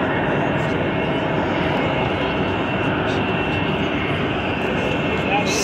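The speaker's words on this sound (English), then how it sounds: "Speedy jet dryer." Loud, steady jet engine roar from a track jet dryer at Las Vegas Motor Speedway during a NASCAR red flag fills the whole stretch, a constant broadband rush with no pauses, close by and unrelenting.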